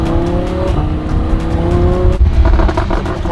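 A supercar drives along with its engine droning and shifting in pitch, loud and close, with brief tire noise and a rougher surge near the end.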